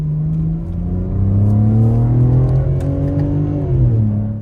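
A BMW G82 M4 with an aftermarket exhaust, valves closed, pulls hard through a gear, its deep, muted drone rising steadily in pitch, loud and close with no talk over it.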